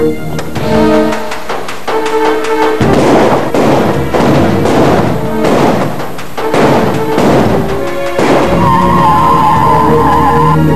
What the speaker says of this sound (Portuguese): Transtornado, ele atira sem parar.